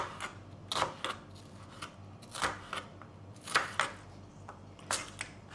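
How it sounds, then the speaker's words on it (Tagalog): A knife slices an onion on a board in separate crisp cuts, grouped in short bursts of two or three with pauses between them, close and quiet, with no talk. "maggagayat ako ng onion"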